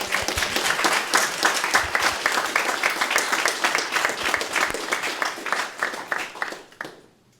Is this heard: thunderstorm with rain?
no